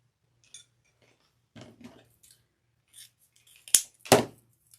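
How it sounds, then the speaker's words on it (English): Scissors snip through deco mesh for a fall wreath: soft rustling handling first, then two sharp, close cuts in quick succession in a quiet room. "Cut from the folded edge up to the top corner to make your perfect dovetail"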